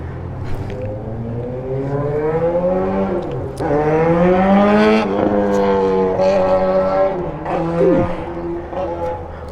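A warmed-up Kawasaki KH 500 H1 two-stroke triple motorcycle engine idles and is blipped, a loud close burbling hum that swells and falls with throttle changes, with no talking.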